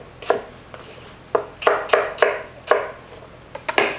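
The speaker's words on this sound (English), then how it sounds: "we can turn these and cut them again into the same size, kind of 1-inch dice" A knife chops celery, carrots and onions into roughly 1-inch dice on a board, giving a quick run of about a dozen crisp, close chops in uneven bursts.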